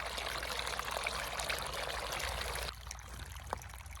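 Water pours steadily onto potted plants in a faint, continuous stream for under three seconds, then abruptly stops, leaving a quiet room.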